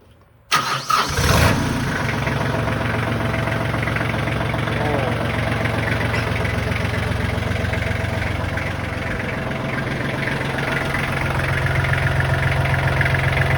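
A Kubota tractor engine cranks and fires after a short quiet lead-in, then settles into a steady, loud idle with a continuous low rumble.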